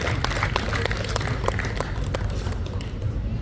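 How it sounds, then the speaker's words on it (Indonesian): An audience at the opening ceremony of a gateball tournament at RSON Cibubur gives steady, moderately loud applause, a dense wash of many hands clapping over crowd murmur throughout. "tepuk tangan untuk Bu Ayun"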